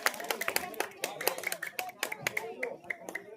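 Scattered clapping from a crowd at a Hindi poetry gathering, uneven and moderately loud, with voices mixed in underneath.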